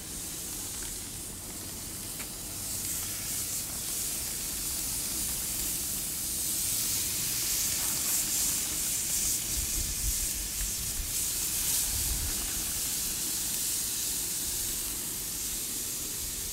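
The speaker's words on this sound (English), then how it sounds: "start placing the chicken right onto my grill, skin side down, and just looking for that sizzle" Steady, close sizzling hiss of skin-on chicken searing on a hot grill, continuous and fairly loud with occasional low thumps, no talking.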